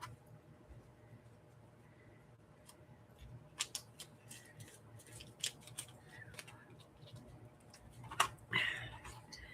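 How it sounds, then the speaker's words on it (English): Scissors fussy cut around glossy paper stickers, a string of faint, crisp snips and ticks at an irregular rhythm, close by and quiet, with low background noise and a slightly louder rustle toward the end. "So I tend to fussy cut my stickers."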